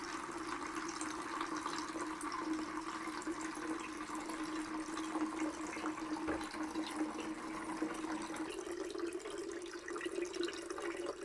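Water drains out of a tank fitted with an automatic level controller, a steady hollow trickling and gurgling flow that continues evenly throughout, moderately quiet and unaccompanied by talk.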